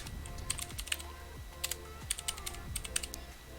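Someone types a message on a computer keyboard: quick, close key clicks come in bursts with short pauses between them, and no one speaks.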